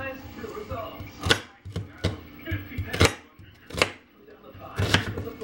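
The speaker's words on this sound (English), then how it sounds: "you don't have to be fussy cutting up your onions" Onions being chopped for cream of broccoli soup, a series of sharp knife knocks on a board at an uneven pace, close and fairly loud with quieter handling noise between strikes.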